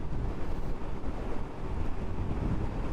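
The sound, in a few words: strong wind while riding a motorcycle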